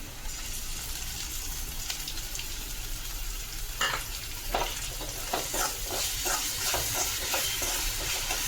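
A ground paste of roasted coconut and onion hits a hot pan of colocasia leaf curry, setting off a steady sizzle and hiss, followed by rhythmic scraping and clinking of stirring that grows busier toward the end.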